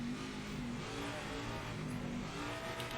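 In the racing video game Project Motor Racing, a GT race car's engine roars past on the inside line, a loud, steady droning engine note with no talk over it.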